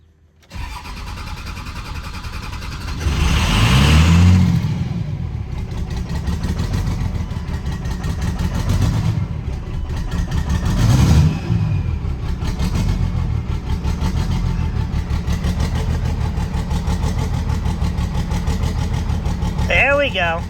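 A VP44 Cummins diesel cranks and catches on starting fluid with a loud surge, then settles into a steady, rough idle with a couple of brief revs, close by, while people talk over it.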